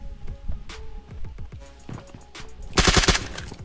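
Gunfire in the mobile battle royale game PUBG Mobile: repeated sharp single shots with trailing echoes, then a dense burst of rapid automatic fire near the end, loud and close.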